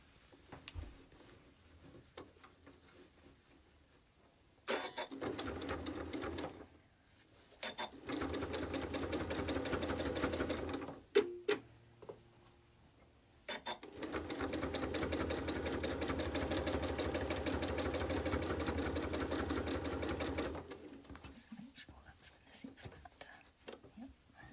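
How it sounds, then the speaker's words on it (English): A sewing machine stitches quilt binding onto a cushion in bursts: a short run, a longer steady stretch, then a second sustained run, with quiet pauses and faint handling noises between. "now I go back to the machine and I sew from where I stopped to where I started"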